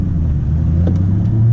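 A 2001 Mustang Cobra engine runs with a steady, loud low rumble that rises slightly toward the end as it starts to accelerate, with no talking.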